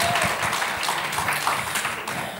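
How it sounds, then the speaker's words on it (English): Audience applause for guests at a youth panel discussion at a conference, steady dense clapping throughout, moderately loud and continuous with no pauses. "Could you give them a round of applause?"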